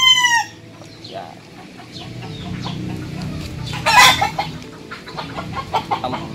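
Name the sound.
chickens and roosters clucking and crowing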